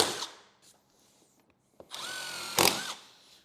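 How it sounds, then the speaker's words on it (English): A power drill pre-drills holes to mount a Kenwood Excelon plug-and-play speaker and amp kit. It gives a few short whirs, then one sustained, close, loud spin that winds down, with no talk. "we'll pre-drill these holes"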